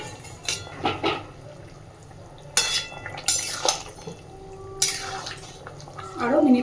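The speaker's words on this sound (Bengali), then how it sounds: "এইবার আমি ভেজে রাখা মাছগুলো এর মধ্যে দিয়ে দিচ্ছি।" Fried koi fish is dropped into a simmering cauliflower and potato curry, with several sharp metallic clinks and scrapes of utensils against the pot spaced out over a low bubbling background, and a voice briefly near the end.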